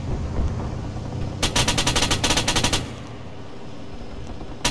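Tank heavy machine gun firing in a combat video game, a rapid burst of loud automatic fire lasting over a second against a constant rumbling engine-like background.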